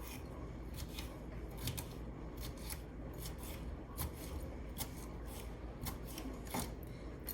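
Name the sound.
cutting pulp from vegetables for fajitas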